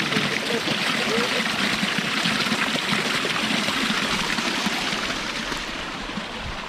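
Natural water flowing down from the hills, a steady broadband rush like a stream or trickle, continuous and fairly loud throughout with faint voices underneath.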